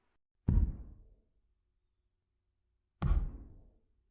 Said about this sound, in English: Sounds like something knocking against the wall.